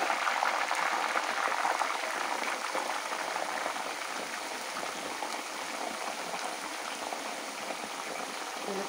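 Herbal hair oil, with crushed leaves added, bubbles steadily in a pan, a dense, even crackling boil that holds close and loud throughout with no talking.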